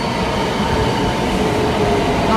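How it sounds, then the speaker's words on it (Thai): A Kodama Shinkansen bullet train pulls into a platform in Japan with a loud, steady rushing rumble and faint wheel hiss, heard up close with no voices. "รถไฟชินคันเซ็นมาแล้วค่ะ"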